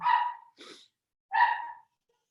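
Dogs bark indoors in two loud, close bursts separated by a short breathy yip, with a pause and then silence afterwards.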